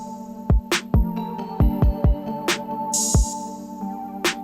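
Same hip hop beat with kicks, snares and chords, now with an open hi-hat layered in, a bright, sizzling hit that rings out briefly over the punchy, syncopated drum pattern.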